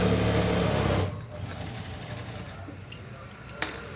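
A sewing machine stitches a plain blouse seam, running loud and steady for about a second, then stopping. Quieter handling noise follows, with a brief sharp tap near the end.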